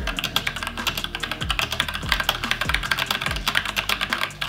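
Someone types fast on a computer keyboard fitted with heavier OEM-profile keycaps, producing dense, steady clacking keystrokes with deeper thocks mixed in, close and loud with no voices.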